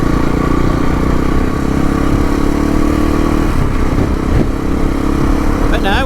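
An adventure motorcycle rumbles steadily while riding through sand, its engine drone loud and continuous, with wind and clatter mixed in and a rider's voice faint underneath.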